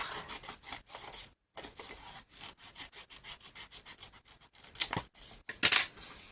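Scissors snip repeatedly through folded paper card, cutting along a marked line for a pop-up card, producing close, crisp rhythmic cuts with a short pause and a louder final snip.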